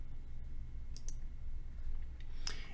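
A few quiet, sharp mouse clicks on a build button, isolated taps spaced apart over a faint background hum.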